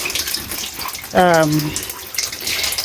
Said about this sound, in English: a hose that is connected to the tap, and I just run water